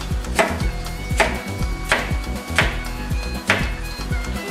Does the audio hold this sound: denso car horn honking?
no